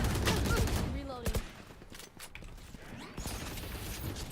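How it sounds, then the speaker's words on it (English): Close mechanical clicks and clacks of a weapon reload in the tactical shooter Valorant, set among dense bursts of in-game gunfire and match noise, with a voice faintly present beneath. "Reloading."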